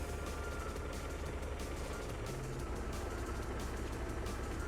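A badly running car engine in the video game Car Mechanic Simulator 2015 drones on steadily throughout, a rough, low, continuous rumble at constant loudness with no speech over it.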